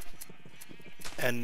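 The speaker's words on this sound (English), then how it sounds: "You can hear the shears going off like crazy." Shears snip rapidly at sheep in Minecraft, a quick run of light, evenly spaced clicks with a short bleat near the end. A voice briefly speaks over them.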